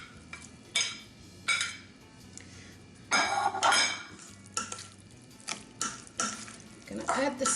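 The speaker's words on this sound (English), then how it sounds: "Now I'm going to add the salmon." Raw salmon being added to a bowl and mixed for poke, with wet, squelchy stirring and utensil clicks coming in repeated close bursts between quieter pauses.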